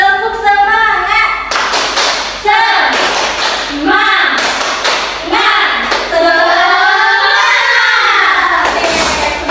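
A class of students at a micro-teaching lesson performs a rhythmic clapping cheer, with sharp group claps in a patterned beat alternating with loud, chanted voices close by.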